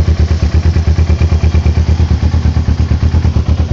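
A Kawasaki Ninja motorcycle engine idling right after its first start, a loud, close, steady rhythmic chug with even pulsing throughout.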